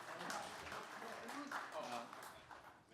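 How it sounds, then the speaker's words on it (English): A small tech meetup audience claps, faint and somewhat distant, with speech mixed in over the steady patter. "Yeah, let's clap."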